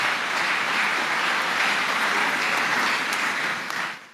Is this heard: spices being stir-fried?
no